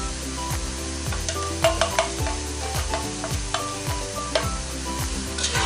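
Browned onions sizzle in a pan as coriander, chilli and turmeric powders are stirred in for a beef suhari, a steady frying hiss broken by several sharp scraping and clinking stirs, close and with no voices.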